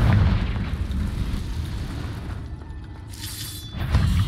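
A Confringo blasting spell explodes in Hogwarts Legacy, a loud, deep booming blast with a rumbling roar that holds steady, dips briefly and swells again at the end, with no talking.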